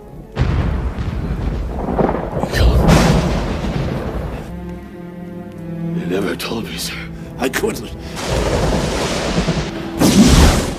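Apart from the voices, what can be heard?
thunder sound effect after lightning strikes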